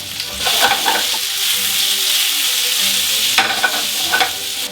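Food browns in a hot pan with a loud, continuous sizzle, and two bursts of tossing and turning come near the start and again toward the end.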